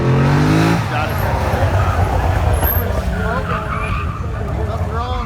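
LS7 V8-swapped Porsche 911 skidding through an autocross course at a car show, a loud sustained tire screech over engine roar with talk running underneath throughout.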